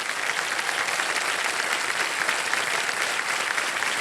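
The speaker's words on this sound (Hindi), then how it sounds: "एक बार जोरदार तालियां बज जाए।" Loud studio audience applause at a KBC quiz show taping, a dense, steady roar of many hands clapping that holds evenly for the full four seconds with no voices over it.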